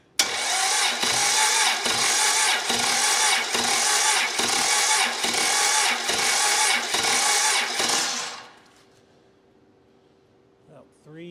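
A Cummins 4B diesel engine cranks over steadily on the starter during a compression test, about eight even pulses a second at close, loud range, then stops abruptly and leaves near silence with a faint click.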